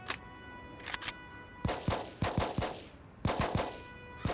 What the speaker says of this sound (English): Eubanks is burning ammo trying to kill you, but can't because you have cover.